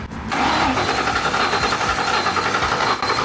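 An old Ford Mustang GT, long left sitting in a field, cranks over loudly and continuously with a rough, rhythmic churning that carries almost unbroken for a few seconds before cutting briefly.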